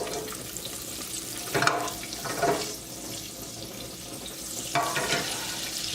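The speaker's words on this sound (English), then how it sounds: "Let's get that all nice and sizzling." Olive oil and two tablespoons of butter sizzle in a 3-quart Tupperware pan, a steady hiss with a few louder bursts and clinks throughout.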